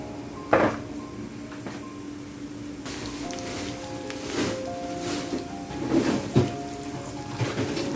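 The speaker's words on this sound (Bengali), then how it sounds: "এখন আমি পেঁয়াজ কুচি দিয়ে দিলাম" Chopped onion hits a hot pan for a Bengali shak with prawns, giving a soft, rain-like sizzle with a few clatters of utensils against the pan.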